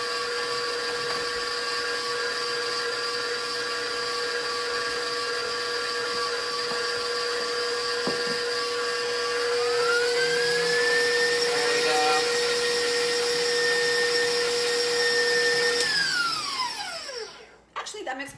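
An electric mixer whirs steadily, blending butter and eggs for a low carb pound cake batter, its motor pitch rising midway before winding down at the end.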